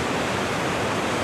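Keoti waterfall, a loud, dense and unbroken roar of falling water heard up close, with no voices.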